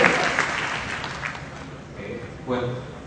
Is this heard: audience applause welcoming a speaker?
yes